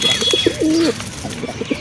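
Jack pigeons, a pair, give close, throaty coos: short pulses, one drawn-out rolling coo in the middle, then more quick pulses, over steady low background noise.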